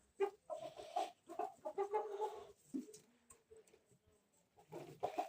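Hens cluck in short, repeated bursts, fairly close and moderately loud, with a few quieter gaps before the clucking picks up again at the end.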